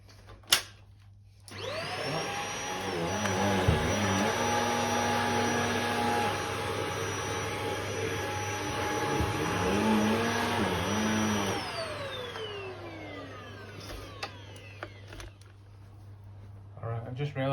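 A corded Shark HZ500UK anti hair wrap stick vacuum, used as a handheld with a shortened attachment on stairs, whirs up, runs loud and steady for about ten seconds with pitch dips as it presses on the steps, then winds down.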